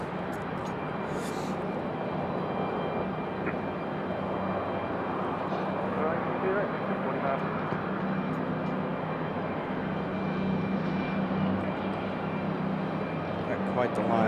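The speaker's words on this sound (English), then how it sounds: "this is United Express, operated by Republic Airways, coming in from New Jersey on an E170" A United Express Embraer E170 jet operated by Republic Airways arrives at Raleigh Durham airport, its engines giving a broad, steady roar that holds for the whole stretch under faint background activity.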